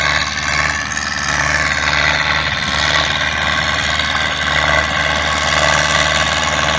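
HATTAT A110 tractor engine labouring steadily while ploughing a field, a continuous loud diesel drone with low rumble and vibration, close and unbroken throughout with no talk.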